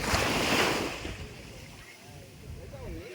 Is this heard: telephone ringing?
no